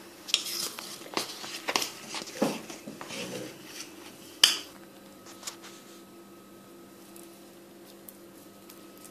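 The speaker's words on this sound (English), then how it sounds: "So grab a spoon, give it a stir." Metal spoon stirring a thick cornstarch-and-water oobleck mixture in a bowl, giving several uneven scraping clinks and taps over the first few seconds, then a sharp knock before the sound fades to near quiet.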